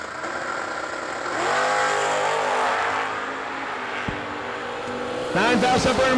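Drag racing cars launch off the line at the New Year Nationals, among them a wheelstanding Chevy Nova. The engines roar loudly and steadily, with a rising burst of revving near the end, while a track announcer's voice is mixed in.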